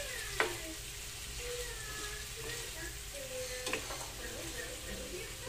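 Potatoes sautéing in a pan, giving a continuous close sizzle with two sharp utensil clacks against the pan and light stirring between them, and no voices.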